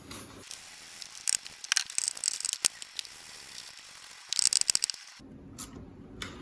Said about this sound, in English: Seems I've got them each started, so I get to tightening them down.